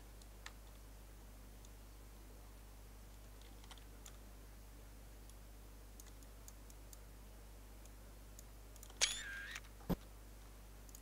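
A camera shutter fires in the American Truck Simulator video game: one short, faint mechanical click with a quick tick just after, near the end of an otherwise quiet stretch over a low, steady engine hum.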